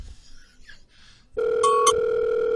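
A telephone line goes quiet for over a second, then a loud, steady dial tone starts and holds to the end, with a couple of brief beeps over it.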